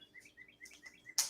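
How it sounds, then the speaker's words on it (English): Birds sing outside a window on a spring morning in central Illinois, a few short, clear chirps and trills that sound faint and distant, ending in a brief, sharper noise. "I can hear the birds singing outside your window, Jay."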